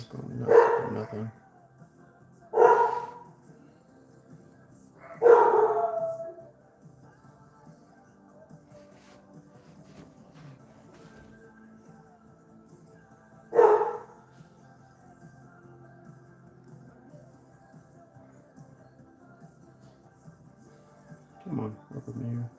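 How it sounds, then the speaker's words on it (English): Three dogs bark in separate clustered bursts spaced several seconds apart, close and fairly loud, with only quiet background between outbursts. "Three dogs. Going nuts for nothing."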